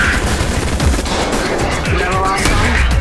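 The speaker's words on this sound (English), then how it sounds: "these plasma slugs continue destroying your cover" Plasma gunfire in a VR roleplay game tears into cement and steel cover as a dense, continuous roar of rapid blasts and crashing debris, loud and close with no talk.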